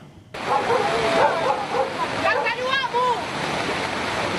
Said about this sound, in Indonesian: Arus deras langsung menghantam permukiman warga di Kecamatan Tuka